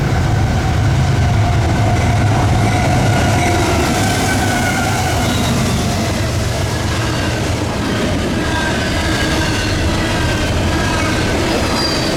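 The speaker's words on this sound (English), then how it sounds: "we were surprised to see a westbound Norfolk Southern intermodal." A westbound Norfolk Southern intermodal freight train rolls past close by in a continuous loud rumble, with wheels squealing and steady clickety-clack from the cars throughout.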